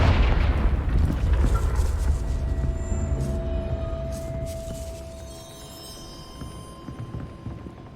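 A Confringo fire spell exploding in Hogwarts Legacy, a loud deep boom with crackling debris that rumbles and gradually fades over several seconds into quieter scattered pops.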